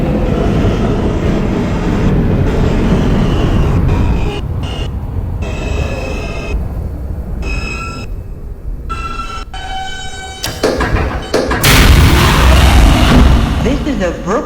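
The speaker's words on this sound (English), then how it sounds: "This is a Brooklyn-bound J skip stop train" An R160 subway car riding a Brooklyn-bound J skip-stop train, with a loud continuous rumble and rattle of wheels and car body throughout, a mid-ride dip in the roar, and a surge of noise near the end.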